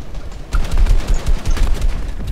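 Dense bursts of gunfire in a console battle-royale shooter match, rapid overlapping shots cracking loudly after a brief quieter lead-in and continuing steadily to the end.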